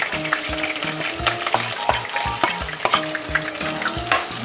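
Garlic sautés in a hot pan with a steady crackling sizzle, while a utensil scrapes and stirs in regular strokes close by; no one speaks.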